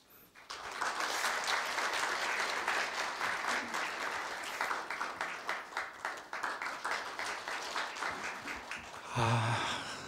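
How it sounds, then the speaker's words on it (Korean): Sustained applause from the audience at a Korea University staff retirement ceremony fills the room for about nine seconds, dense and steady, then thins into scattered claps before a voice begins. "이상길 차장님을 큰 박수로 맞이하여 주십시오."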